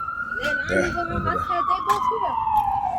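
Ambulance siren wailing steadily in a slow descending tone, close and loud across the whole stretch, with a voice talking over it.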